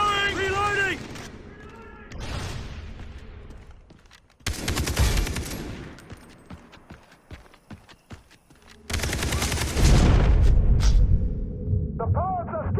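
Grenade blast amid a Far Cry 3 multiplayer firefight: loud bursts of gunfire and a heavy booming explosion near the end, with shouted voices in between.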